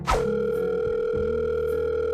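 A telephone call's ringing tone, a single sustained electronic tone lasting about two seconds, loud and clear with nothing else over it.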